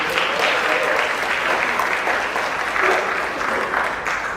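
An audience at a Trinidad and Tobago Independence celebration gives a sustained round of applause, a thick, even roar of many hands clapping at once, steady from start to finish with no pauses.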